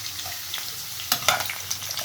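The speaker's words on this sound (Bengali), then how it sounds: "আলু আর বীজ ভেজে নেওয়া যাক।" Potatoes and whole dried red chillies frying in hot oil in a home kitchen, a steady close sizzle with a few louder crackles and stirring clatters.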